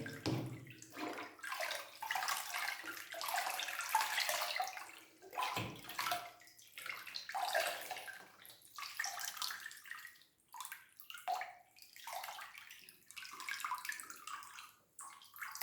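Water is poured by hand into a potted plant during feeding: a soft, steady trickle and gurgle that pauses and resumes, faint and close, with no talking.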